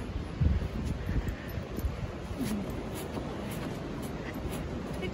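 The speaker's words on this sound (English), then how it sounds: "Wind is blowing." Wind blowing outside on a very cold farm near a barn during calving season, a steady broadband rush with gusty rumbling buffets against the microphone and faint rustling, no voices.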